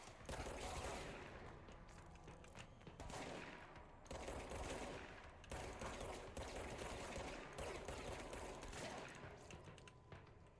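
Video game gunfire erupts in dense, rapid automatic bursts and scattered shots, rattling almost continuously for about ten seconds with brief pauses between volleys, played back very quietly.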